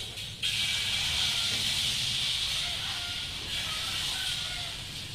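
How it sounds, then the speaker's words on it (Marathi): Gulgule batter ladled onto an oiled hot pan gives a bright, steady sizzling hiss that starts abruptly and holds close and fairly loud, fading slightly toward the end, with no talking. "किंचितचं तेल टाकायचं पळीच्या साह्याने आपल्याला हे मिश्रण त्याच्यावरती टाकायचं पसरून घ्यायचं"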